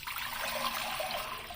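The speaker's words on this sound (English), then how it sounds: "And then we're going to fill it with hot tap water." Hot tap water pours steadily into a small two-liter ultrasonic cleaner fitted with a basket, a continuous close splashing trickle with no break and no voices.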